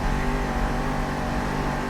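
A monster truck engine in Monster Jam Steel Titans 2 roars at a steady, loud, sustained rev with no voices, a continuous dense mechanical drone.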